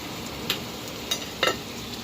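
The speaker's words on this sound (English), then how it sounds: "And you're going to be frying this on a medium heat." Sliced onion and potatoes fry over medium heat with a steady soft sizzle, broken by a few faint clicks and stirs.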